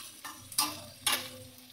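Vadas frying in oil in a home kitchen pan, a soft steady sizzle broken by a few sharper bursts as pieces are stirred or turned.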